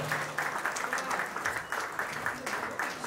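Audience clapping at a book launch event, a moderate crowd applauding steadily for a few seconds, somewhat distant and even, with a faint murmur of voices underneath.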